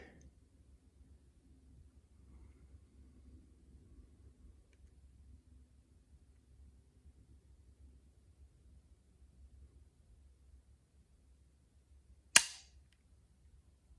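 A single sharp Glock pistol shot fired during a shooting drill, loud and abrupt near the end after a long quiet stretch with faint low background rumble.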